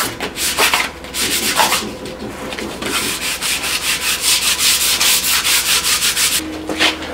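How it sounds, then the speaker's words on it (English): A concrete countertop desk is sanded by hand in close, continuous back-and-forth strokes, a dry gritty rubbing that swells and fades rhythmically for several seconds with no talking. "Once it's all sanded"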